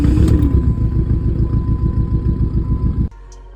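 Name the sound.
car engine running badly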